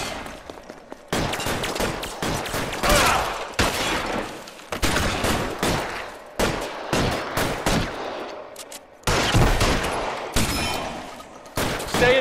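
Loud L.A. Noire gunfight, with repeated volleys of shots in sharp bursts separated by brief gaps, heavy and close, with almost no talk.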